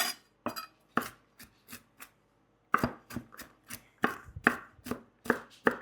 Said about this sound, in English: Let's get started on these pecans. Giving them a good rough chop.